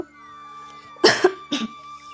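Two short close coughs from a woman in a home kitchen, a sharp first cough with a brief catch and a second slightly softer one half a second later, over quiet room tone.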